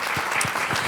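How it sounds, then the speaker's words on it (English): An audience applauds a panel at an education policy event, with a brief burst of loud clapping and no voices over it. "So let's again give the panel a round of applause."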